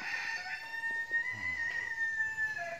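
Free-range village chickens around a house yard give a few soft low clucks at a distance, faint and scattered over a steady high background hum.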